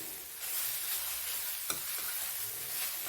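Ghee sizzles hard in a pan for carrot halwa, a dense, even hiss heard up close with one brief tap partway through and no voices.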